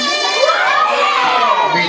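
A group of children shout and cheer loudly together at a ninth birthday party indoors, a dense continuous burst of high excited voices close up.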